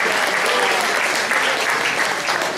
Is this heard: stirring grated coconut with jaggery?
no